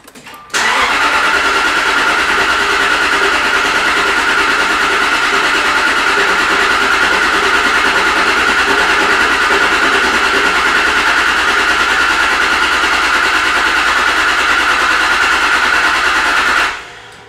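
A Jaguar XK8 engine cranks and catches after a replaced fuse, then settles into a steady, loud, even idle held close by for about sixteen seconds before cutting off.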